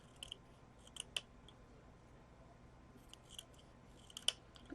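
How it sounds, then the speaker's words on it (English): Sharp spring-loaded Fiskars scissors snip in quick, crisp clicks, grouped into little bursts of two or three cuts separated by quiet pauses, close and fairly faint. "My favorite scissors. They're super sharp."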